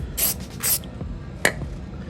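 Two quick hissing spritzes from a trigger spray bottle of exterior trim dressing, followed by a faint click and a softer squirt.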